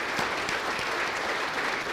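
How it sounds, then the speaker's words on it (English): An audience at the Motorsport Ireland Awards 2025 ceremony applauds, with dense, steady clapping from a large indoor crowd throughout. "So I think just another round of applause for all of those people before us."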